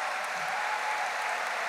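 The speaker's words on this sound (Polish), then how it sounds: "A zatem jeszcze raz wielkie brawa." Audience at a women's congress session applauding, a brief burst of steady dense clapping heard at a distance in a large hall.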